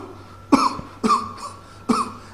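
Three harsh coughs spaced about half a second apart, close to the microphone, with no talking.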